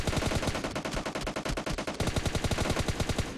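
Rapid automatic gunfire in PUBG Mobile rattles in dense, fast bursts, loud and close, with the shots packed tightly together for the whole stretch.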